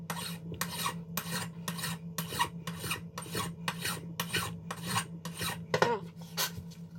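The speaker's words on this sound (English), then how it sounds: "I think I'm just going to do the file work here until we get the clocking close" A metal hand file rasps across the threads of a custom lightsaber hilt in about a dozen regular back-and-forth strokes, each a bright scraping burst, close and clear over a faint steady hum.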